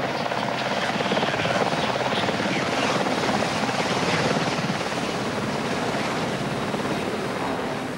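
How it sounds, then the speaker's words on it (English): A rescue helicopter hovers over a vessel at sea during a winching operation, its rotor chop loud and continuous with wind and surf noise mixed in, and a voice faintly audible underneath. "Another helicopter carrying Steve's partner, Dave Wallace."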